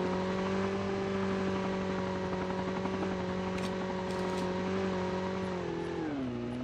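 A line of cars driving in the mobile shooter game Call of Duty Mobile, a steady engine drone with a sustained tonal whine that dips in pitch near the end.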